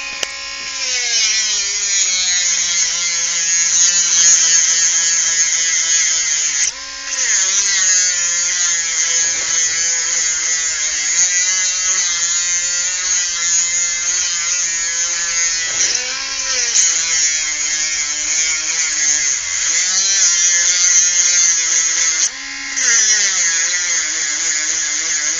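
A Dremel rotary tool cutting through a steel cable bike lock, giving a loud, sustained high-pitched whine that shifts in pitch as the load changes, with a few short dips where the cut pauses.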